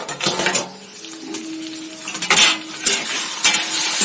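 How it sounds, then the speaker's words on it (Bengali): Chicken pieces are sautéed in oil in a pan, with a steady sizzle broken by the scrape and clatter of a spatula stirring against metal, close by and fairly loud, with no speech. "আপনার সুন্দর করে কষিয়ে নিতে হবে আরো কষবে মাংসটা দেখে নেব"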